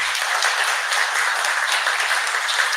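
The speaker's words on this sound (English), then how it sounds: "they deserve a round of applause for that" Steady audience applause at a Manchester political forum, dense and even clapping throughout, filling the room without any voices.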